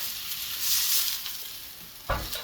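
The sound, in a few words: vegetables searing in a pan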